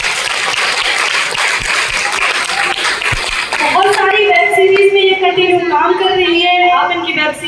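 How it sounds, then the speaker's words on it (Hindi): A crowd at a Haryanvi folk dance workshop at a government school claps loudly for a few seconds, the clapping giving way to someone speaking over a microphone with music starting behind her. "जोरदार तालियां।"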